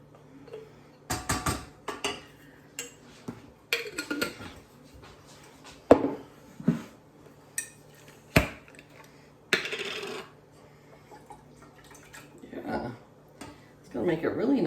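Alfredo and marinara sauce stirred together with penne, producing irregular clinks and scrapes of a utensil against a pot or dish, mixed with talking throughout.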